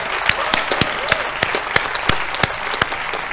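Audience applause for the finalists at a national science-communication prize ceremony in India, a steady wash of clapping from a hall crowd with sharp individual claps standing out, loud and continuous throughout.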